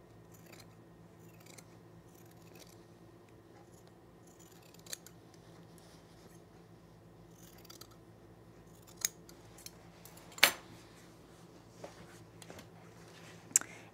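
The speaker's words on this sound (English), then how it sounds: "let's trim these threads here" Scissors trim loose threads from a sewing refashion project with a few quiet, scattered snips, one crisper cut standing out in an otherwise hushed room.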